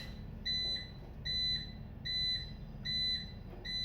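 An electronic alarm beeps in a steady repeating pattern of high, piercing tones, about one burst every half second, over a low background rumble.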